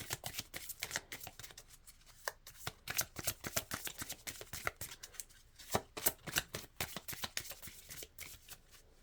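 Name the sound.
shuffling a deck of cards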